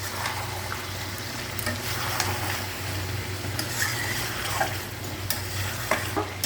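Fried potatoes tumbling into a pan of oily meat curry and stirred, with a steady sizzle, scraping spoon strokes and a low hum running underneath throughout, no talking.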